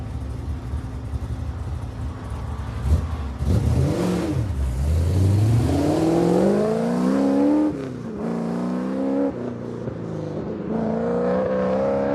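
A Mazda Miata on an autocross course at a racing speedway, its mid-pitched engine revving up and down through repeated rising and falling sweeps as the car works through the run, heard continuously and fairly close with no voices.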